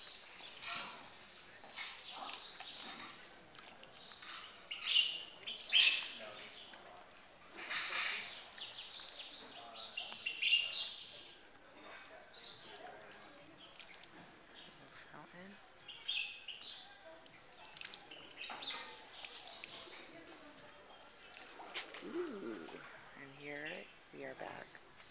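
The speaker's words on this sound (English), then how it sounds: "There's a lot of birds that live here." Birds chirp and tweet intermittently throughout, moderately close, in a riad courtyard in Marrakesh, over soft background ambience with quiet voices at times.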